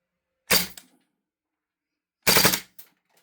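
A GHK AUG gas blowback airsoft rifle fires two short, loud bursts of rapid shots about two seconds apart, with sharp mechanical cracks and nothing else in between.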